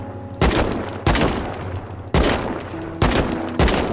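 Loud, close bursts of gunfire in the video game Rust, shooting at a chain-link wall, four or five sharp volleys with rattling echo between them.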